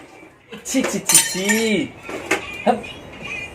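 Dishes and cutlery clinking while being washed at home, with a few sharp metallic chinks and scrapes near the microphone, mixed with a voice and people talking.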